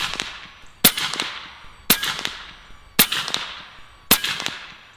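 AEA HP MAX .357 air rifle firing pellets at targets: four sharp, loud cracks spaced about a second apart, each followed by a brief ringing tail, with nothing else heard between shots.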